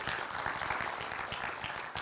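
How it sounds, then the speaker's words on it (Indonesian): Youth church service congregation applauding energetically, a dense, even roar of many hands clapping throughout with no pause. "Ya, tepuk tangannya semangat ya."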